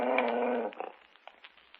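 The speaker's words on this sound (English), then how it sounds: "It seems that my dog has been scratching at your door again." A dog growls low and steadily at a door, then the growl breaks off into a few soft, broken whimpers and faint scratchy noises, close by and alone.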